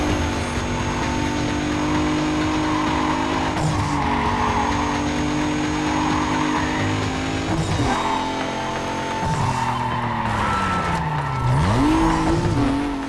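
A race car roars through corners in Need for Speed Carbon. The loud engine revs rise and fall as the car shifts, and tires squeal and skid near the end.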